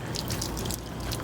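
Water drains steadily out of an RV water heater tank during an anode rod replacement, a continuous close splashing trickle with no voices.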